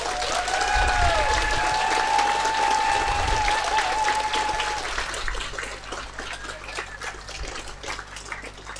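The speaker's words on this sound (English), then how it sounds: "I think a round of applause for them." Audience applause for award nominees at the British Fantasy Society awards ceremony, steady and full for about five seconds, then thinning out as the clapping trails off, with faint background chatter.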